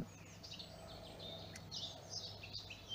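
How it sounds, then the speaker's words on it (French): Birds sing outdoors on a cool sunny morning: faint, distant chirps and tweets over a steady low background hum. "je me relie au chant des oiseaux"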